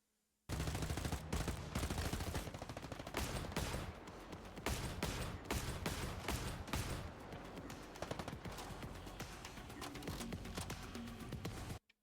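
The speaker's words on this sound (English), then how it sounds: "we seem to have a very powerful shotgun here with some sort of with a customized foregrip" Heavy gunfire from a powerful shotgun with a customized foregrip in the video game Den of Wolves: dense, sustained volleys of loud close shots run almost continuously for about eleven seconds, with no talk.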